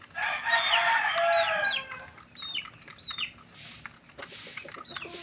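Sweater Gilmore cockerels in a backyard crow loudly, one long crow up front, followed by scattered short clucks and calls with quieter crowing farther off.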